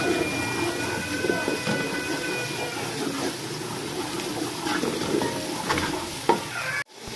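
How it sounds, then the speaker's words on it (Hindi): Cumin and garlic paste frying in a pan for kadhi pakora, a continuous close sizzle with light stirring scrapes and a few soft clinks before it cuts off abruptly. "इसको भी अच्छे से हम लोग फ्राई करेंगे।"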